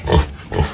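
Two short, low grunting snorts from a wild boar eating watermelon rind, close by, with a brief pause between them.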